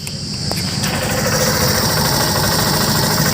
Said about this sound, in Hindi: कितना साइलेंट इंजन स्टार्ट हो रही है भाई, बिल्कुल भी पता नहीं चल रहा है